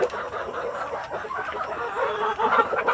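Rhode Island chickens clucking on a farm, a busy murmur of overlapping clucks and soft calls from several birds nearby, steady throughout with no talk.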